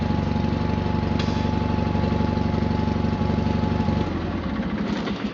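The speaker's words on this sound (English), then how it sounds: "with this pump running at full blast, it'll be a little bit of a load on the 318" A John Deere 318 tractor engine runs under load while driving a shaking Ace pump at full blast, holding a loud, steady, close drone that shifts slightly in tone toward the end.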